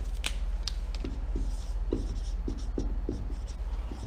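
Pen or pencil writing out math problems by hand during a precalculus lesson, with a series of short scratchy strokes and taps at an uneven pace, close and clear with no talking.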